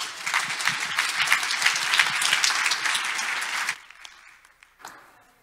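Audience at a tech conference applauding to welcome a speaker to the stage: dense, sustained clapping from a crowd that stops abruptly, leaving a few scattered claps and room noise.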